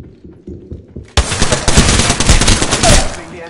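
Rapid automatic gunfire in the video game Apex erupts suddenly after a few softer thuds, a loud sustained burst of close shots rattling on to the end.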